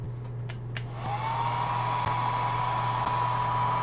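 A heat gun warms the back glass of a Motorola Moto Z3 during repair, a steady close whir that rises in pitch as it spins up after a few faint clicks.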